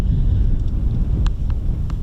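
Strong wind buffets an outdoor microphone at an air weapons range, a loud, continuous low rumble with a few faint clicks on top.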